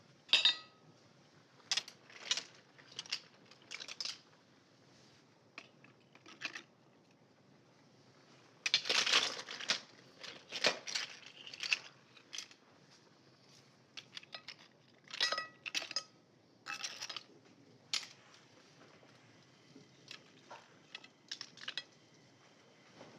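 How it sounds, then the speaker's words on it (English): Ladle clinking against a pot and dish while serving seafood brodetto, a series of light metallic taps and scrapes in short bursts, fairly quiet and close. "I think we are ready to ladle this"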